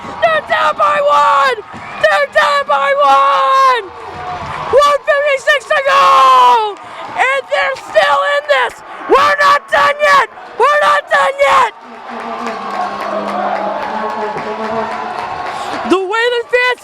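Hockey crowd at a high school playoff game roaring after a late goal, a sustained cheer of whoops and yells with a commentator talking over it in bursts, then a broad, steady crowd hubbub.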